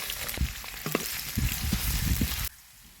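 Sliced onions and green chillies frying in oil with a dense, loud sizzle and a few stirring knocks, stopping abruptly near the end.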